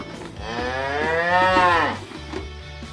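A cow moos once, a long, loud, drawn-out low call rising and falling over about a second and a half, with a faint low hum beneath.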